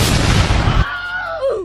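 A cartoon cannon swung around by a crow fires with a loud, dense blast for nearly a second, then cuts to quieter whistling, descending tones as the shot flies off.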